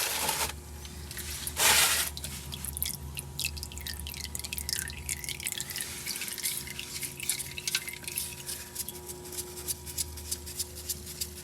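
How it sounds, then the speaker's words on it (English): Fuel drips from the fuel line of a 1972 Ford F100 pickup in a junkyard, a long series of small, close, irregular drops after a couple of louder early clanks, with a steady faint hum underneath. "Oh, this is gonna drip."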